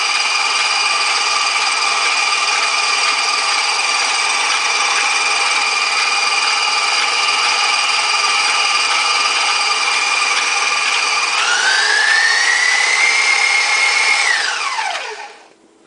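An electric stand mixer whirs steadily and loudly while mixing peanut butter cookie dough. The motor holds an even whine, then rises in pitch briefly before spinning down to a stop.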